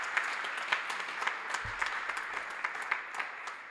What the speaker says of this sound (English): Can you give the round of applause to Ntate Tinani